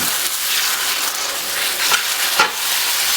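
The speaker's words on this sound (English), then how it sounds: "We're going to go ahead and add our tomatoes. And we'll stir those in." Tomatoes stirred into sweated-down vegetables in a pot for crawfish étouffée, a soft steady sizzle with a couple of spoon scrapes, close, no talking.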